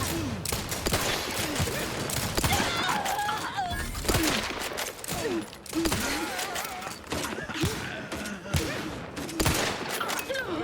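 Gunfire in the video game The Outer Worlds 2, rapid repeated shots and impacts throughout, loud and close, mixed with shouting voices and combat sounds.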